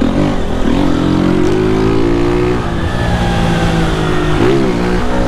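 A motorcycle fitted with a tin-can exhaust revs loudly and close by, its harsh, raspy engine note rising and falling in repeated throttle blips without a break.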